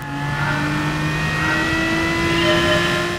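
An Aston Martin race car engine in Gran Turismo Sport roars steadily and climbs in pitch under acceleration, a loud, close, continuous drone with no talk over it.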